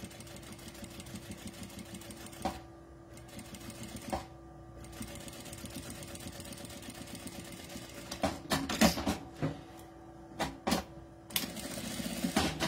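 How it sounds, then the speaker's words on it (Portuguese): Sewing machine topstitching all the way around the edge of a fabric document wallet, a steady mechanical stitching hum running through with short pauses and a burst of quicker, louder stitching toward the end. "Vou costurar, fazer uma costurinha de pesponto em toda a volta"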